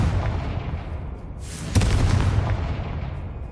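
A Confringo spell blast from Hogwarts Legacy: low rumbling game ambience, then a sudden sharp explosion partway through that rolls on as a loud, dense roar.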